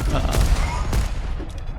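Void Cannon firing in the arena shooter Diabotical during a competitive match, heavy booming blasts with a sharp transient near the start and another just before the midpoint over dense, continuous low-end combat noise.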